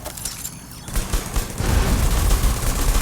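An explosive drone blows up in a video game, with deep booming blasts and crackling debris swelling louder through the second half and staying close and heavy.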